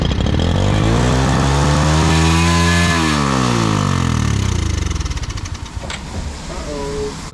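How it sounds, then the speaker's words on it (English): A motorbike engine with its throttle stuck open, at the Vietnam–Laos border, revs loud and close in a sustained, strained roar whose pitch climbs and sags, then stumbles and roughens toward the end. "throttle is just stuck open, so the engine's just going ah!"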